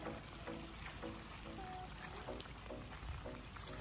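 Irrigation water runs strongly through a farm field, a steady, faint rushing flow with a constant wash of noise and no pauses.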